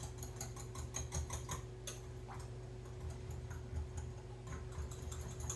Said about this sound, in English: Get my little whisk. And we whisk it all together.